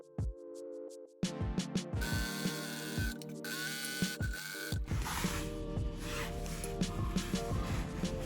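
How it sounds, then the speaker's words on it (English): Domestic sewing machine stitching along the bottom edge and decorative lines of a shirt cuff for a cosplay flight suit, running in steady rapid mechanical bursts with brief stops and restarts, close and fairly loud, no talking. "Now we're going to sew along the bottom edge of the cuff, as well as make 2 decorative lines on the center of the cuff."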